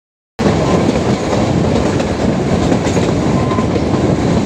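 The Kalka–Shimla toy train runs along its narrow-gauge rails at about 22 km/h, heard from inside: a loud, steady rumble with a continuous rhythmic clickety-clack of wheels, starting abruptly after a brief silence.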